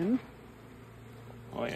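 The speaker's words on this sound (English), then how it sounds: "a lot of bee activity around him" Bees buzz in a steady low hum around a beehive during a hive inspection, a faint continuous drone with brief voice-like sounds at the start and end.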